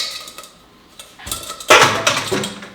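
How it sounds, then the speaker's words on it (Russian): Pasta for a tom yum dish is stirred in a pan, with scraping and clinking of a utensil against metal, soft at first and then a louder, busier burst of stirring. "Теперь так аккуратненько пасту нашу перемешиваем."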